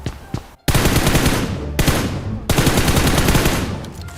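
Sustained automatic gunfire in the PUBG video game: loud, dense bursts of rapid shots with two short breaks, close and dominant throughout.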